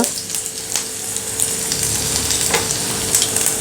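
Cumin, ginger and a pinch of asafoetida crackling in hot oil for spinach samosa filling, a steady close sizzle with small pops and spits throughout.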